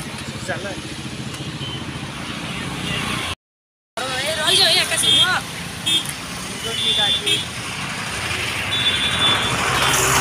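Cars, motorbikes and trucks stream across a bridge in Puri during the Rath Yatra festival, a steady roar of traffic close by with several short horn toots and a brief dropout.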